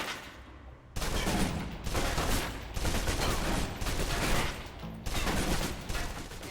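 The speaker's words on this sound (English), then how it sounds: "Now, let's move on to the submachine gun. Now let's empty the clip." Submachine gun fire in the video game Alpha Protocol: several loud sustained automatic bursts with brief pauses between them, alone and close.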